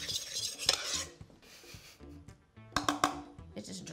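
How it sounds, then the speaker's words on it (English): Dry cookie ingredients (coconut flour, baking soda and salt) are stirred in a bowl with a utensil, soft scraping and clinking strokes in short bursts, close and quiet, with a voice talking over parts of it. "Mix your dry ingredients."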